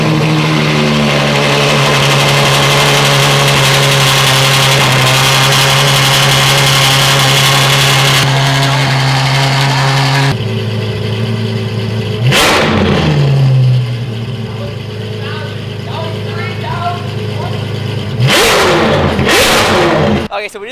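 A Ferrari 812 fitted with a Ryft exhaust revs hard outdoors, its loud, raspy engine note climbing and falling through several sustained blips and sharp throttle stabs, close and dominant throughout.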